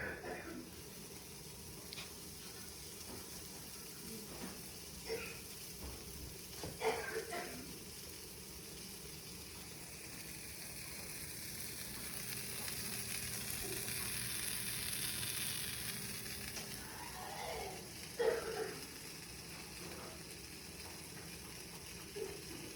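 Steady sizzling of bread and melting cheese frying in a pan, a soft continuous hiss that swells in the middle, with occasional clatters and brief voices nearby.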